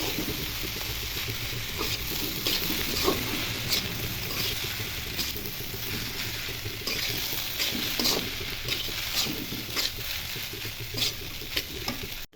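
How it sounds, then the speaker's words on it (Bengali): Noodles being stirred and mixed in a hot frying pan, a continuous sizzle punctuated by repeated scraping and tapping strokes of a utensil against the pan, close and steady for several seconds. "এখন নুডলস ঢেলে দিব ভালো করে মিশিয়ে নিব"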